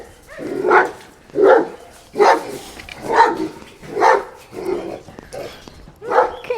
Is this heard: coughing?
no